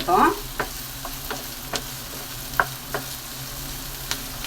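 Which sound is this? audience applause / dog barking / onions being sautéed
onions being sautéed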